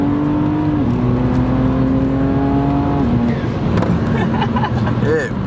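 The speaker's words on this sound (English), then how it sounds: "testing out the car" A car accelerates under test, its engine tone stepping up through the gears in a loud, steady whine with shifts in pitch, while voices murmur faintly underneath.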